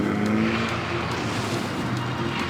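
A Renault Mégane RS engine revs hard and roars steadily close by as the car accelerates, with some tire noise, and no voices.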